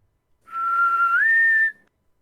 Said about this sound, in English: this is more like a referee's whistle. Oh, gotcha. With a little bit of cork inside